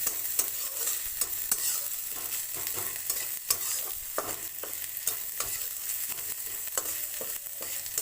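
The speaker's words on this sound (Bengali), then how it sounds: "মাছটা ভালো করে আমি ভাজি।" Bhetki fish fries in a kadai, a steady close sizzle punctuated by frequent sharp taps and scrapes of a spatula against the pan, with no speech.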